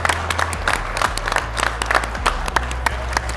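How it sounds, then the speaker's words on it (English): A live finale audience claps for two competitors, brisk and fairly close, over a low rumbling music bed. "Let's give up one more round of applause to Mike and David."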